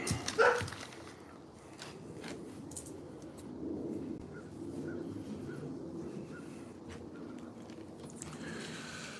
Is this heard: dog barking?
yes